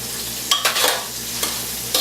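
A spoon stirring garlic powder into coconut curry tofu in a hot pan, a steady sizzle broken by a few short scraping strokes.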